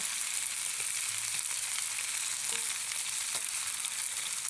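Adobo with no broth sizzles and fries steadily in a pan, a dense, continuous crackle with occasional soft stirring scrapes.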